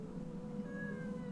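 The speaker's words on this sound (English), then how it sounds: "You're just gonna stand there and meow at me?" A house cat meows in a drawn-out, steady call lasting the whole moment, fairly close and moderately loud over a low background hum.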